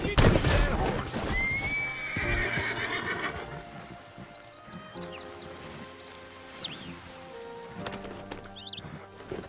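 A horse in Red Dead Redemption 2 lets out a loud, shrill whinny and snorts, followed by scattered hoof clops, with faint rain in the background and people talking throughout.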